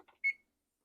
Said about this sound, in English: So I'm going to set my timer for 30 minutes.